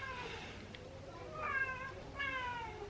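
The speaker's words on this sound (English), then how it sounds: "Can you hear my cat?" A house cat meows repeatedly indoors, three drawn-out plaintive cries spaced across the moment, close but fairly soft, with no talking.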